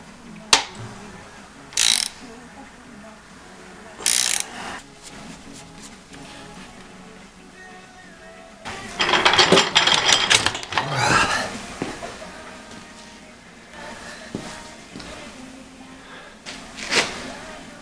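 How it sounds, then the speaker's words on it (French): A ratchet works a Torx T45 bolt on the engine of a 2000 BMW 530d E39, heard as short bursts of clicking, with a longer busier run of ratcheting midway and quiet pauses between. "pour enlever le guide ici, il faut enlever ce boulon là, c'est du Torx en 45"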